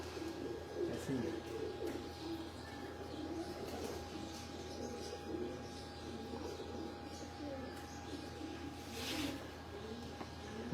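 Pigeons coo softly on a Lahore rooftop, a low burbling that rises and falls over steady ambient noise, with faint chirps and a voice now and then in the distance.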